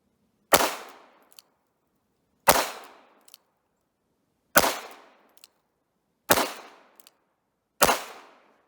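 Five sharp gunshots from an 1895 Nagant revolver chambered in 7.62x38mmR, fired outdoors at a range, each loud and close with a short decaying tail and a faint click after it, spaced about two seconds apart.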